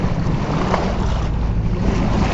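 Steady rush of water and wind around a sailing boat moving briskly at about 7 knots on an outgoing tide off the north Devon coast, continuous and fairly loud with gusty wind noise on the microphone.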